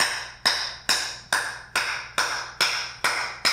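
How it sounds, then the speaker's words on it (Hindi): Slow, evenly spaced hand claps, about eight sharp claps at a steady rhythm, each ringing out briefly in a reverberant room with no talk. "ताली बजा इनके लिए"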